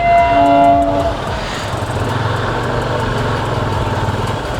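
Darjeeling toy train at Ghum station sounding its horn, a loud steady tone for about a second, followed by a rhythmic chugging engine rumble close by.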